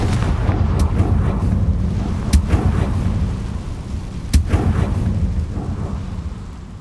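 A Confringo fire spell in the Hogwarts Legacy video game sets off explosions: three sharp booming blasts burst out over a low, rumbling game background.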